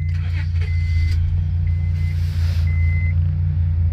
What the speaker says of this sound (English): This car's running now.